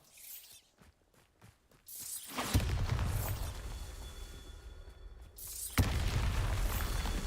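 A Bombarda blasting spell cast in Hogwarts Legacy erupts as a loud, rumbling boom that swells and lingers for several seconds, then a second sharp burst follows, after a few light clicks.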